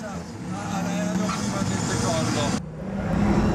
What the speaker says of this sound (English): the loud noise of the turbos